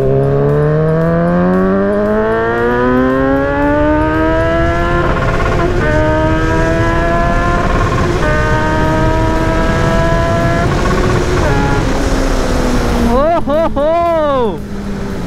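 A Kawasaki Z900 motorcycle accelerates hard on an open flyover road, its loud, close engine note climbing steadily through several quick gear shifts over heavy wind roar, ending in a rapid warbling rev.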